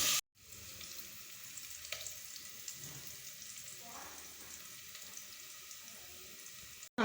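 Onions and green chilies fry in hot oil with a steady low sizzle throughout, a few faint clinks and stirring touches breaking through; brief silence at the very start.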